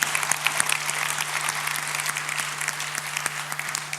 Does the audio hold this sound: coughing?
no